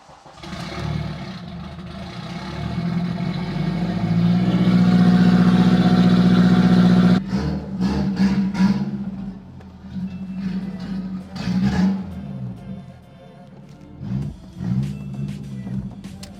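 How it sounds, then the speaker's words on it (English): A turbocharged 8th-generation Honda Civic cranks and fires up on a cold start with the exhaust valve open, idling loud and steady with a deep rumble, then drops back and revs in short bursts. "a good old cold start for the boys. With the exhaust valve open,"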